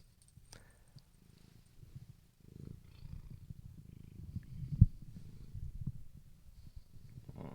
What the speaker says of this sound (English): This is Riri Kitty